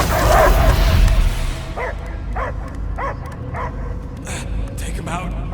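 Dog barking and whimpering inside the Marvel's Guardians of the Galaxy video game, a series of short, close yips and barks in a steady rhythm over game ambience, following a brief louder burst of sound at the start.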